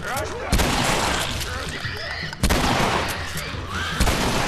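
Bursts of gunfire from The Last of Us Remastered, three loud, sharp volleys spaced about two seconds apart over a busy game soundscape, with voices faintly present.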